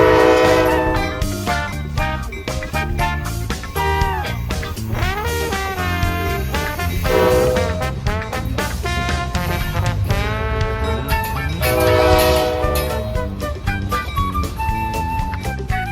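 A Norfolk Southern local freight train sounds its horn at a railroad crossing in rural Ohio, with repeated loud, drawn-out chords and short blasts over the rumble of the passing train, with no talk.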